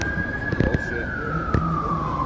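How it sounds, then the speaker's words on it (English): An ambulance siren wails steadily at a distance, a single sustained tone slowly falling in pitch, with scattered background knocks and noise around it. "Got the ambulance show up there."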